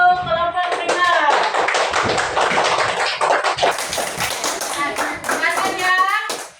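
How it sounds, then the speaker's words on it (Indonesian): Fourth-grade pupils in an elementary school classroom clap for a presenting group, a brisk, dense burst of hand claps lasting several seconds, with children's voices ringing through and over the clapping. "Tepuk tangan untuk kelompok primer"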